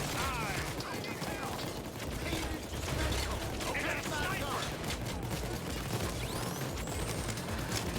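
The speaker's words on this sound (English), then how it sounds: "there's just so much gunfire going on" A constant dense roar of gunfire and mechanical clatter in the video game Payday 2, loud and unbroken throughout, with voices faintly mixed in.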